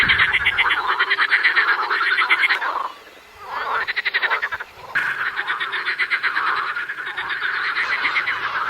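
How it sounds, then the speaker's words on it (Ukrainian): A dense chorus of green frogs croaks continuously in wetland vegetation, rapid rattling calls layered loud and near, with a brief dip in the middle before the chorus swells back. "Безперервно лунають концерти зелених жаб."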